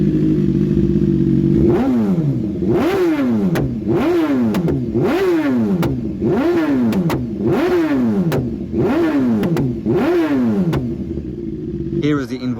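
A 199-brake-horsepower motorcycle that pops flames revs hard again and again in a steady rhythm of rising and falling engine sweeps, with sharp exhaust pops crackling between the revs, loud and close.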